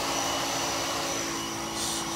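A PermaSafe disinfectant sprayer runs in a podcast studio bathroom, giving a loud, steady, broadband whooshing drone with a faint constant hum that holds evenly for the whole stretch.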